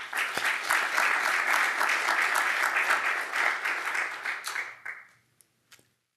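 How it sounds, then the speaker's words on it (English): An audience at a civic State of the City address in Columbia, Missouri, gives sustained, fairly loud applause with dense clapping for about five seconds. It then fades quickly to a few scattered claps and silence. "I would like to take a moment to give them a round of applause as well."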